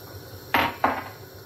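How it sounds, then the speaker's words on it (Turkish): Two clattering metallic knocks about a third of a second apart, close and moderately loud, as the lid comes off a pot of homemade tomato breakfast sauce boiling on the stove. "Kapağını alıyorum artık"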